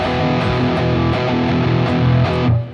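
Distorted metal electric guitar chugging through a slow rhythm study in steady quarter-note figures with short pauses, loud and close, alone without talk, ending with a brief cutoff.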